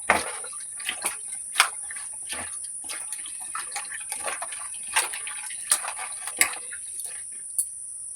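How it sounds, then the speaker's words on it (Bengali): Okra being washed by hand in plenty of water, with intermittent splashes and drips over a steady high insect-like hiss, close and moderately loud, no talk. "বেশি করে জল দিয়ে ধুয়ে নিচ্ছি"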